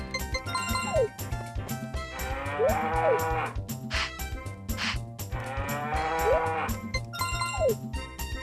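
A cow on a farm moos repeatedly in long, bending calls with short gaps between them, close and fairly loud, while a cowbell-like ringing sounds underneath.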